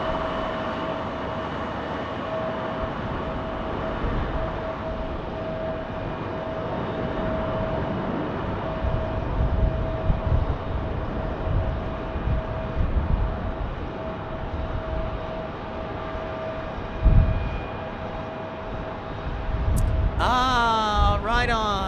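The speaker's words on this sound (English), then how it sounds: "This A321neo inbound from Philadelphia." An Airbus A321neo arriving from Philadelphia at Phoenix Sky Harbor Airport, heard as a steady broad jet roar with a whining engine tone that holds for the whole stretch and swells slightly near the end, moderately loud and distant.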